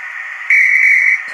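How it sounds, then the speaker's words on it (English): A guard's whistle sound effect at a model railway station plays once, a short, sharp, steady shrill blast standing alone after a brief softer lead-in. "Now we wait for the guard's whistle."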